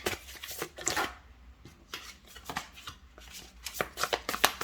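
A deck of tarot cards being shuffled, irregular riffling and slapping bursts with short pauses between, close and crisp without any talk.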